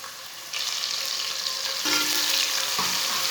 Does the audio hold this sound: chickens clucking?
no